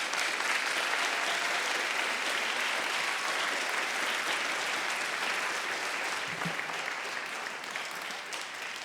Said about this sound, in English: So students, will you please applaud your parents,